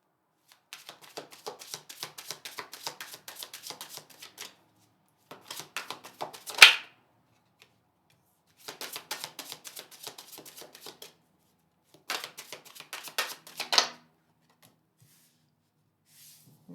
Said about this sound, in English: Okay, let's pull 4 cards.